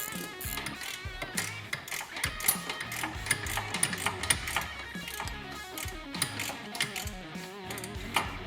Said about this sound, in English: we'll go ahead and remove our last nut on the stud here for our rack